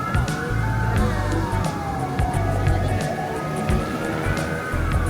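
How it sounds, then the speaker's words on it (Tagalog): Ambulance siren wailing on a busy street in Bangkok near Lumpini Park, sustained and moderately distant over traffic rumble and city noise. "May ambulansya pa."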